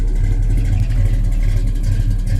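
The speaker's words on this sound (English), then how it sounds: "No smoke out the tailpipes, just a nice Roadrunner muscle car sound." A 1969 Plymouth Road Runner muscle car's engine rumbling through headers and dual exhaust, a loud, close, steady low idle with a slight lope and no talking.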